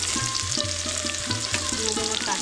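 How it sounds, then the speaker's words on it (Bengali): Garlic and chopped onion fry in a pan with a continuous, close sizzle and hiss, while stirring adds light rhythmic scraping. "রসুনটা একটু ভালো করে লাল লাল করে ভেজে নেবো। দিয়ে দেবো পেঁয়াজ কুচি"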